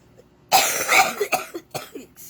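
A woman lets out a short burst of coughing, several harsh, close hacks in quick succession after a near-silent start.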